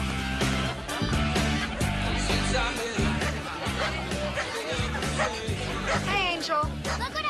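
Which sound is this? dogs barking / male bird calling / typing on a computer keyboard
dogs barking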